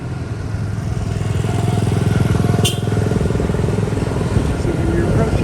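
Motorbike engines buzz steadily through busy street traffic at an intersection in Hoi An, Vietnam, a continuous close mid-pitched drone with a brief sharp horn-like blip midway.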